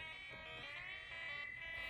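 A buzzy electronic synthesizer voice built from 555 timer chips, with rich, harsh harmonics, drones steadily, its pitch wavering slightly, quiet and continuous.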